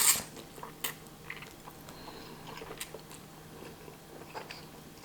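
Someone eats spicy Korean volcano fire noodles close to the mic, with soft, quiet bites and wet chewing sounds in an irregular rhythm and no talking.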